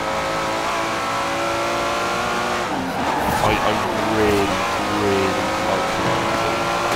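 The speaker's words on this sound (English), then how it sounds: "It could be the F12 Berlinetta from a few years back." Ferrari F12 Berlinetta engine revving in Forza Horizon 4, a steady loud sustained drone with rising and falling pitch sweeps midway, heard under someone talking.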